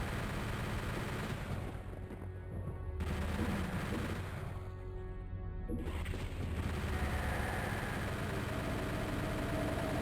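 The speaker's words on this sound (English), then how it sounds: "I'm going to take care of the pinkies with the chain gun first" Rapid chain gun fire in Doom 64 on the Cold Grounds level, a dense, steady burst of game gunfire running nearly the whole time alongside a low droning ambience.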